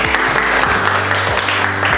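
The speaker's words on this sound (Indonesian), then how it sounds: "Boleh tepuk tangan untuk kita semua" A class of students claps together after presenting their group discussion results, a dense steady patter of hands filling the room, with a low hum beneath.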